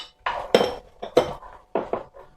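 A utensil clatters against a pan while onions and carrot pieces are stirred over high heat, with five or six distinct knocks and scrapes separated by short pauses.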